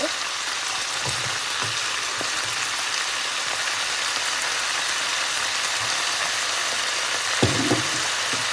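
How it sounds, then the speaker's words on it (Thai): Ginger chicken stir-fried in a pan gives a continuous bright sizzle, with occasional scraping knocks of a utensil tossing the pieces, close and loud throughout. "เราก็จะมาผัดคลุกเคล้าให้เข้ากันนะคะ"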